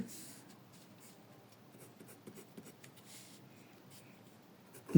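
Pen writing out a math solution on paper, a quiet continuous scratching with small strokes across five seconds, faint and close, with no talk over it.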